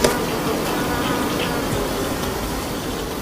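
Honeybees hum steadily at a feeder, their wings producing a dense, continuous buzz that stays close and loud throughout with no voices.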